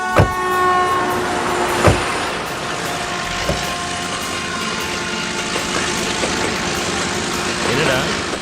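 A train rolls past on a railway track, loud and close, with a continuous rumbling clatter of wheels and wagons over several seconds, plus a sustained horn tone and periodic thumps from rail joints.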